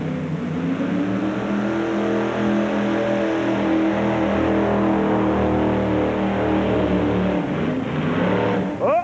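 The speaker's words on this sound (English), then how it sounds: "here comes Sheila Mitchell with a homemade Chevy injected 650 horsepower" A homemade fuel-injected Chevy pulling-tractor engine of 650 horsepower roars loud and close through a sustained run at a farm machinery truck and tractor pull, its harmonic drone holding steady before cutting off abruptly near the end.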